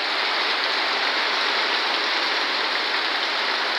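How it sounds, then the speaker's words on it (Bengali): Heavy rain pours during a storm in a dense, unbroken broadband hiss, loud and steady throughout with no voices. "আর বৃষ্টি, বিশাল বৃষ্টি হচ্ছে।"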